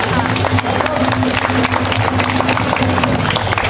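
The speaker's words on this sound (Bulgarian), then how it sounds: "аплодисменти за женския народен хор от село Хаджидимитрово" Loud, dense audience applause breaks out for a women's folk choir at a village cultural club in Hadzhidimitrovo, Bulgaria, a steady wash of clapping with crowd noise and some voices.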